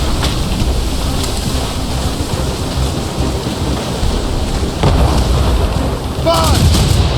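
Naval battle in Assassin's Creed Rogue, with ship cannons booming in heavy bursts over a constant roar of wind and sea, a few sharp blasts standing out near the end.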